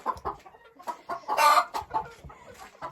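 A Marans laying hen clucks close by in uneven bursts of short calls, with one drawn-out, louder squawk near the middle.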